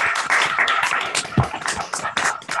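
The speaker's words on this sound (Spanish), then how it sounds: "Vamos a despedirnos con un gran aplauso, Rodri, para estos niños y niñas que han trabajado tan bien hoy." A small group claps for children at the end of a science workshop, scattered and uneven hand claps mixed with background voices, one sharper close clap standing out midway.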